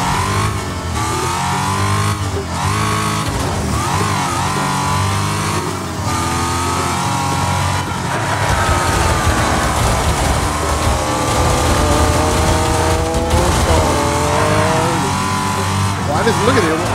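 Cars in the racing video game Wreckfest drone and rev continuously with engine tones rising and falling, a brief tire squeal possible, under steady talk from a person throughout.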